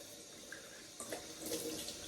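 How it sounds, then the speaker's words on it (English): Hot water runs from a bathroom tap before shaving, a steady hissing rush that swells noticeably about halfway through and stays fairly close, with no talking over it. "I'm going to put some hot water on my face."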